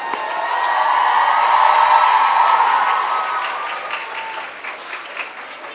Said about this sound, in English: let's clap, let's clap, let's clap